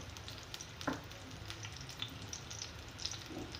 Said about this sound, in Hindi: प्याज को मैं गोल्डन ब्राउन करूँगी और साथ ही मैंने ये ज़ीरा डाल दिया है